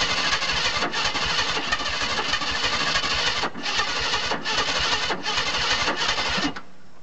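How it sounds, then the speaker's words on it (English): 1981 Jeep Wagoneer Limited engine trying to start with its timing off, probably from a lost timing chain: a harsh, rapid grinding crank repeated in bursts with short gaps, loud and close, cutting out near the end. "you can hear it. Here the timing's messed up."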